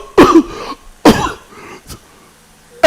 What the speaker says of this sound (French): Une toux interminable. Une toux qui indispose les gens.